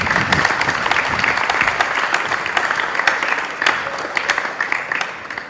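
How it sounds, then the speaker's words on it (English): A graduation ceremony audience gives sustained, loud applause, a thick continuous roar of clapping from many hands with no talk over it. "For that, they too deserve a huge round of applause."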